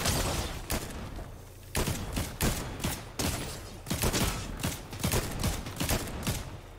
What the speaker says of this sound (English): Taking shots from the roof.